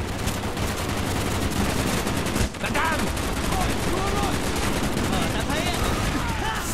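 Rapid, dense gunfire rattles continuously with explosive cracks, loud and close, under a busy Call of Duty Black Ops campaign soundscape.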